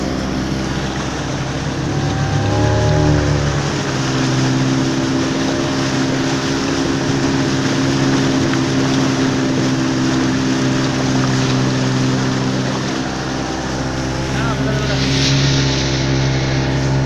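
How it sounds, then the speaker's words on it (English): Steady motorboat engine drone on a boat ride to Baratang Cave in the Andamans, loud and continuous with water rushing against the hull and wind noise, no talk. "This is a boat journey over here."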